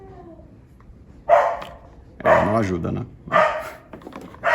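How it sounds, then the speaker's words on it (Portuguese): A dog barks in a few loud, spaced bursts, one of them drawn out with a whining tone, close by and mixed in with a person speaking. "O cachorro."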